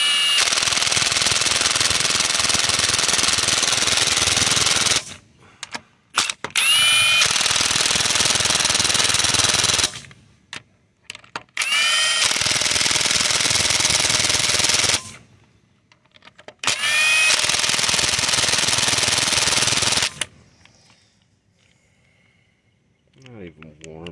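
A Ridgid Octane impact driver set to first speed hammers on lug nuts in four loud, sustained bursts of about five seconds each, separated by short pauses, with a faint trailing clatter at the end.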